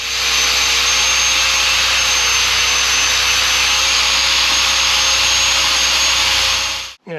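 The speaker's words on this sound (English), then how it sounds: "So I've got to clean them up with a trusty cut brush on the grinder." Angle grinder fitted with a wire cup brush scrubbing rust off brake caliper carriers from a Vauxhall Cavalier, a loud, steady abrasive whir held for about seven seconds before cutting off abruptly.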